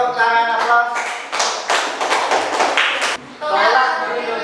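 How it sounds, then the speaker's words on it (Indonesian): Audience at an Indonesian school anti-bullying campaign event clapping in a loud, dense burst of hand claps that pauses briefly and resumes, with voices mixed in. "tepuk tangan aplaus"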